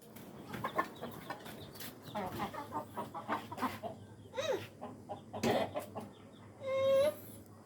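Chicks and chickens being fed a mixed flour feed on a hillside farm give soft, scattered clucks and peeps close by, ending in a brief high cheep, with a little background talk.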